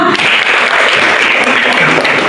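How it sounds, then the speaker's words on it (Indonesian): An audience at a school industry-class event applauds for Bapak Alek, a loud, dense burst of clapping filling the short moment without pause. "Tepuk tangan dong"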